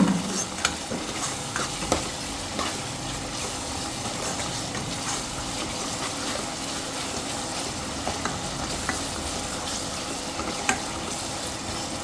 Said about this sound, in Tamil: இஞ்சி பூண்டு நல்லா வேகட்டும்.